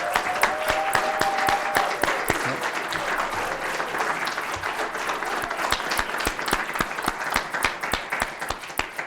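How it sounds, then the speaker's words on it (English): Crowd at an engineering technician apprentice graduation ceremony gives sustained applause, many hands clapping in a dense, lively patter with a few sharper individual claps standing out near the microphone. "Give them another round of applause."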